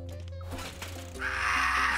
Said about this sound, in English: I made the goat sound and he screamed.